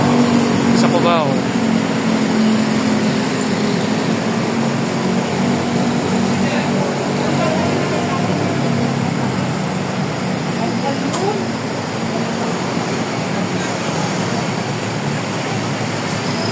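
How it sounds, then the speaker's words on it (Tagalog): Steady traffic rumbles below at EDSA Carousel Bus Main Avenue Station in Cubao, Quezon City, a continuous wash of passing vehicles heard from a footbridge, with a voice speaking over it. "Tayo ngayon sa Main Avenue Station ng EDSA Carousel Bus"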